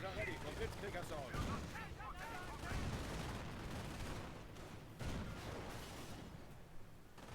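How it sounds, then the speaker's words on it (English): Artillery barrages and gunfire boom across a Company of Heroes battlefield, with dense overlapping blasts and crackling fusillades rolling steadily and swelling again near the five-second mark, while a voice talks over the combat. "This artillery is soon going to be wrecking their base to the degree that it debilitates them properly."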